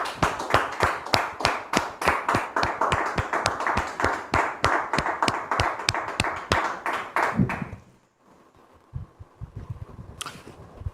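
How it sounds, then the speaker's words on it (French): Studio audience of a French TV talk show applauding as two guests are welcomed, rhythmic clapping that carries steadily for about eight seconds before cutting off into quiet, with a few faint taps afterward. "Merci de recevoir ici et maintenant Muriel et Arnaud sous vos applaudissements"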